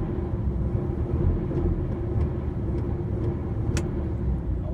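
An HGV lorry engine runs close by with a steady, low idling rumble and a few faint clicks on top, without any clear rise in revs.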